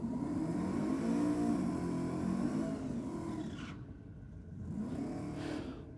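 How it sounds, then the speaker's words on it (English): A Holden Torana with a 350 Chevrolet V8 doing a quick burnout at a drag racing night, the engine roaring and revving loudly up and down, dipping briefly before rising again. "Quick little burnout out of the Trana. 350 Chev."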